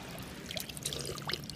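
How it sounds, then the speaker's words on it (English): Spring water runs from an outdoor tap in a thin, splashy trickle, with faint gurgles and droplets spattering softly at close range against a quiet background. "I love drinking from this tap because this is spring water"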